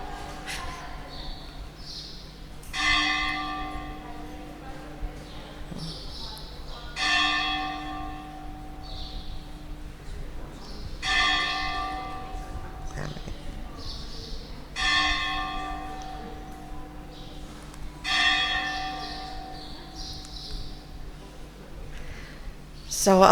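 Bell at a Hare Krishna temple rings in about six spaced, resonant strikes, each decaying slowly, while a faint background hum continues and some speech is present.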